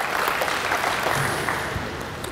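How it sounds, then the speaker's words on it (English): Applause for two netball players after a defensive drill at a coaching clinic, a steady patter of clapping from the group filling the whole stretch at moderate, even loudness. "Give them both a clap"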